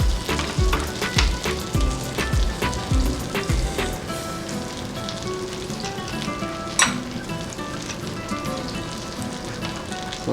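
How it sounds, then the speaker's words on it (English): A buttered sandwich grills in a sandwich maker, a loud, continuous close sizzle and crackle that thins out and settles toward the end, with no voices. "then we're gonna put in our sandwich maker, butter side down"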